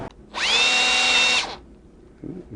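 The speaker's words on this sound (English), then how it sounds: "See if I can get a little drill right in the very corner of that" A small drill bit whines steadily into the corner of a carburetor jet on a 2019 TaoTao Hell Cat Raptor 125cc for about a second, high and close, then spins down, with faint handling noise afterward.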